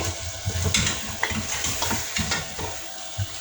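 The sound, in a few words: chicken feet being fried and stirred with yogurt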